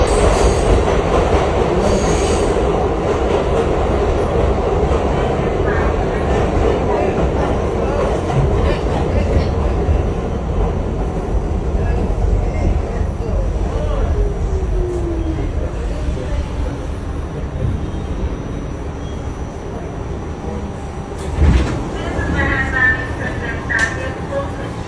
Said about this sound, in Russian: Следующее видео было снято в метро.